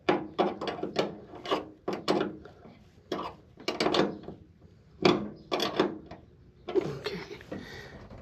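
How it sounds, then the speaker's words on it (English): A wrench tightens a jam nut on an aircraft throttle cable for a Sonex AeroVee Turbo engine, giving a series of close, short ratcheting and scraping bursts in uneven clusters separated by brief pauses. "we'll take a wrench and we'll tighten the jam nut so that the whole thing stays in place"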